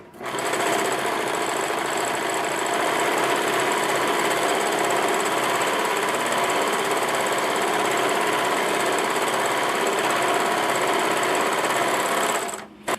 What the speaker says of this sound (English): let the fabric go up under the blade, and the blade is going to cut the fabric as we sew